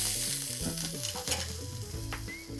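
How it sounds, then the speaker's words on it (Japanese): Yellowtail fillet pan-frying, giving a continuous loud sizzle and crackle with a low tonal hum running underneath throughout. "で蓋してちょっと蒸し焼きにしていきます。"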